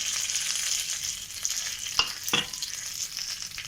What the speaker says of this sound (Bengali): তেলটা দিয়ে এই 5 ফোঁটনটা দিয়ে দিলাম, তেজপাতা, শুকনো মরিচ